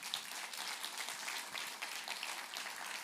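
A church congregation applauds, dense steady clapping filling the room at a moderate level for about three seconds, with no voices over it.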